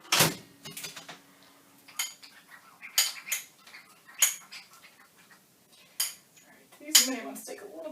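Utensil scrapes and clinks against a pan while coconut is stirred, coming as scattered bursts with quiet gaps in between.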